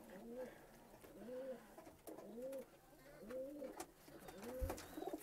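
Thirteen-year-old pet pigeons cooing in a steady, rhythmic series of soft, low calls with a faint background hiss and occasional clicks.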